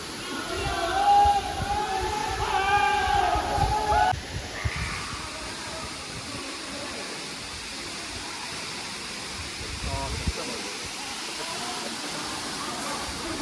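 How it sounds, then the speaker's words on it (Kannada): A waterfall roars steadily at close range, a dense, unbroken wash of rushing water, with brief faint voices and other sounds over it in the first few seconds. "ಹೇಗುಂಟು ಫಾಲ್ಸ್"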